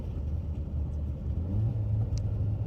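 VW Tiguan with a converted DQ250 DSG gearbox in manual mode: a steady low engine rumble that rises gently as it pulls through the gears, heard from inside the cabin with no talk.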